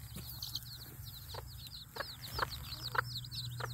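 Hens guarding newly hatched chicks cluck in short repeated bursts, with other birds chirping at high pitch and a steady low hum underneath; a farmyard scene at moderate distance.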